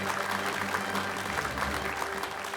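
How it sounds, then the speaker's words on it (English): Audience applause for the chief guest at a felicitation ceremony, a steady wash of clapping lasting the whole moment over a low hum. "Please give him a warm round of applause."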